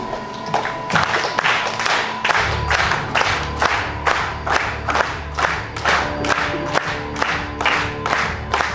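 A church congregation standing for worship claps in steady unison on the beat of a lively gospel song, loud crisp claps repeating over sustained music and bass.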